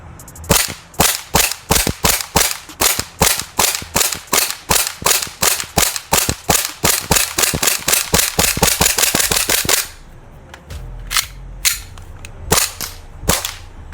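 An airsoft Glock 18C gas pistol fires a long steady string of sharp, loud pops, speeding up into a rapid burst, then a few slower, weaker shots.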